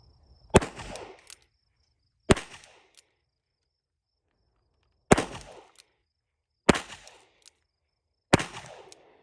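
Five sharp, loud shots from an S&W 65-5 .357 Magnum revolver fired single action at a range target from a few feet away. They come at irregular intervals, each with a brief ringing tail, and silence falls between them.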